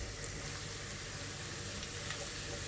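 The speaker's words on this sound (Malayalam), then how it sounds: "നമുക്ക് ഇതിനകത്തേക്ക് നമ്മുടെ ബീട്രൂട്ട് ചേർക്കാം." Chopped beetroot is dropped into a pan of onions frying in oil. A steady, close sizzle crackles evenly throughout, with no talking.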